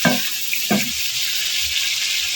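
A spoon stirs crushed coriander, black pepper and cumin in a frying pan, giving two short scraping knocks over a soft, steady sizzle.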